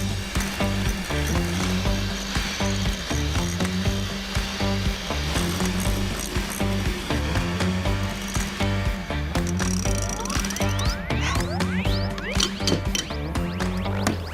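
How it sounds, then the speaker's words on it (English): Egg yolks whisked in a bowl for a chocolate dessert, producing a fast, steady, rhythmic clatter of repeated strokes that carries on without pause, close and fairly loud. "I want to whisk the yolks until they're thickened and about doubled in volume"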